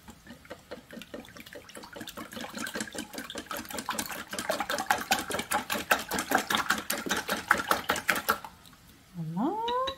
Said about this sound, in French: Je vais mélanger, fouetter tout ça.